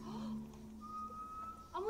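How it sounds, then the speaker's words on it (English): A person whistles a short, thin tune, soft and close, with a low sustained note giving way to a higher held pitch before a brief rising slide at the end. "I'm whistling."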